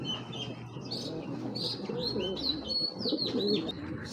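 Pigeons coo in low, throaty bursts while smaller birds chirp and tweet overhead, a busy and fairly close flock.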